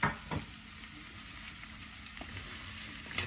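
Boiled potatoes sizzling in oil in a pan for a Tamil-style fish fry, a steady broadband frying hiss with a few louder stirring clatters near the start and end.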